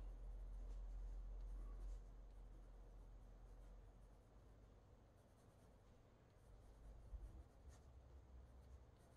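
Pencil drawing on paper, soft scratchy strokes repeating close up in a quiet room, faint and without talk.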